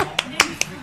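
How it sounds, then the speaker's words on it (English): A few separate claps at a live pub quiz night, four sharp hand strikes spaced irregularly over under a second, close and moderately loud, with voices talking. "round of applause"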